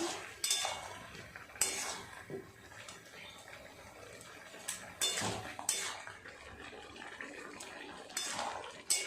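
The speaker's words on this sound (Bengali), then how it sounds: "ভালো করে মশলার সাথে লাউ আলু এইভাবে কষিয়ে নেব" Bottle gourd and potato being stir-fried with spices in a pot, heard as intermittent scraping and clinking of a utensil against the vessel, fairly close but moderately quiet, with no one talking.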